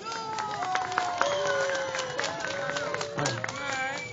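A crowd at a mosque charity fair in Gelsenkirchen-Hassel claps in a dense, lively patter under loud overlapping voices and shouts.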